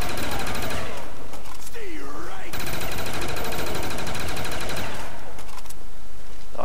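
Automatic gunfire in Call of Duty Zombies on the Kino Der Toten map, loud and sustained across most of the clip with a short break, mixed with game effects and a talking voice.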